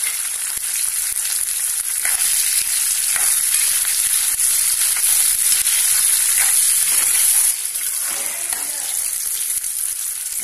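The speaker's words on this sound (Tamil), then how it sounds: "வெங்காயம் தக்காளி நல்லா வதங்கினது" A steady, loud sizzle of onions and tomatoes sautéing in a pan, with occasional stirring scrapes, continuous throughout and no talking.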